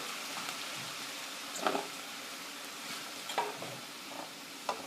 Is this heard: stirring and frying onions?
yes